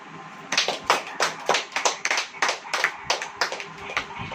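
A church audience claps hands during a sermon, a run of about a dozen separate sharp claps at a fairly even rhythm, close and clear with no talk.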